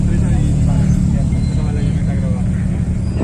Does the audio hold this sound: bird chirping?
no